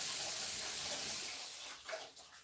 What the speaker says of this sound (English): I'm gonna wash this tomato off,